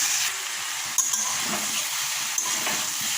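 Eggplant frying in a pan with cumin, a steady close sizzle and hiss with light stirring scrapes and a couple of brief clinks.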